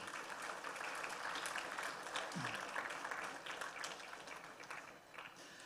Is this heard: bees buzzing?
no